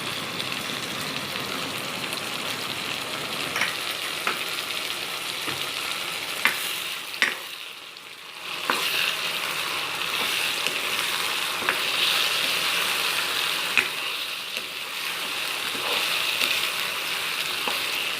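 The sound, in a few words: chicken frying with ginger garlic paste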